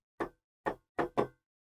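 Knocks on a bedroom door in a narrated horror story, four hollow raps in an uneven rhythm, two spaced, then two quick ones, fairly quiet and isolated with silence around them.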